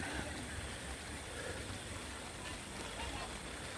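Soft, continuous hiss of light drizzle falling at a campsite, an even wash of patter with no clear pauses.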